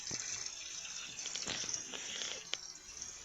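Shower water running steadily inside the Roblox video game, a continuous hissing spray with a few soft clicks and knocks over it, heard alone at low volume.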